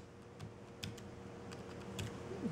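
Keys clack on a Belkin Bluetooth keyboard in a few quiet, scattered taps and bursts of typing, heard close up against a faint background hum.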